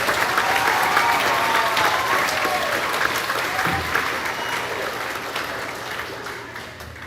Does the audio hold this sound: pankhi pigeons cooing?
no